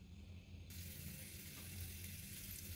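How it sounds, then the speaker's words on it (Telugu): A solid lump of asafoetida drops into hot oil in a pan for raw tamarind pickle. A bright sizzle bursts in abruptly after a brief quiet moment and then holds steadily up close over a low kitchen hum. "ఇప్పుడు కొంచెం ఆయిల్ వేసుకున్నాము. దీంట్లో ఇంగ వేసాను చూడండి."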